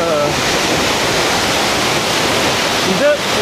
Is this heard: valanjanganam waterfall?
yes